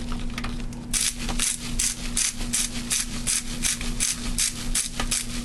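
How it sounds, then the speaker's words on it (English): Salt ground by hand over breadcrumbs mixed with cornmeal, a rapid rhythmic ratcheting crunch that repeats steadily, close and fairly loud, with a constant low hum underneath. "But to this breadcrumb and cornmeal, I'm going to grind in a little bit of salt."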